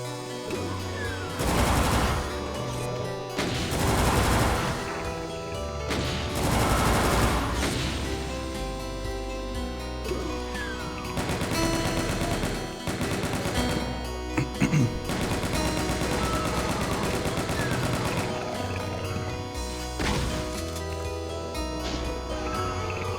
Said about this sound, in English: Looks like I have ran out of shotgun shells, so I have to use my chain gun instead.